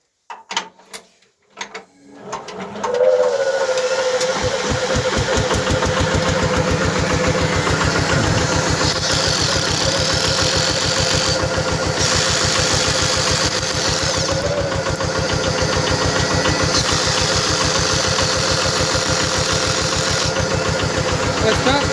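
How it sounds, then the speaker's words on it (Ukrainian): Homemade generator built from an old electric motor and a pair of capacitors, driven by an engine that starts up and then runs steadily and loudly with a constant mechanical hum, loading a cordless drill. "Ми його зараз заведемо і я вам покажу, що наш шуруповерт тримає навантаження."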